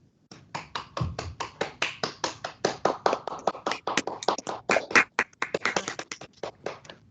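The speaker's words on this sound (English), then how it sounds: "maybe we could all come off of mute and give a round of applause to our panelists today" Applause from a small online panel audience: a steady run of sharp, separate hand claps at close range, continuing for about seven seconds with no talk over it.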